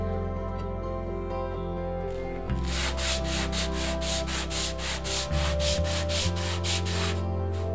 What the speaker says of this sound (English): Sand the surface until smooth.